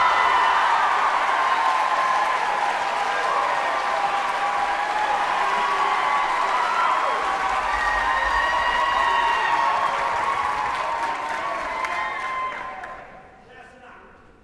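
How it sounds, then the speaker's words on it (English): A concert audience at a choral gala gives a choir a long, full round of applause mixed with some cheering and crowd voices, holding steady before fading out at the end. "A big round of applause, please, Ete Whānau,"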